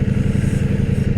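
A motorcycle ridden around town gives a steady, close, rhythmic engine throb with a fast pulsing beat and mechanical clatter, loud and continuous.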